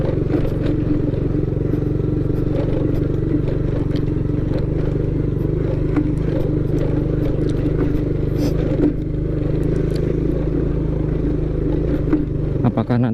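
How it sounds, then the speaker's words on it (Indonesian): A motorcycle rolls slowly over a bumpy village road, its engine drone steady and loud up close, with rattling and clattering from the rough surface throughout. "Nggak bisa banter ini naik motornya, jadi saya nikmatin banget geronjang-geronjangnya ini"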